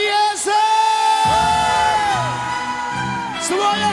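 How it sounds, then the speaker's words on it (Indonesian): A worship congregation praising Jesus lets out loud, sustained whoops and shouts, with rising and falling voices layered over a steady crowd roar. "Berikan sorak-sorak yang paling dahsyat bagi Yesus."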